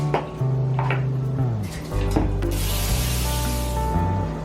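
Cooking spray hisses into a 9x13 pan in one steady burst lasting a couple of seconds, close and alone after some faint handling clicks.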